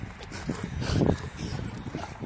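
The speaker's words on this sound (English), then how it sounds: "they're not very nice dogs" Dogs bark repeatedly at a moderate distance, a rough, overlapping chorus peaking near the middle, with a low, busy background.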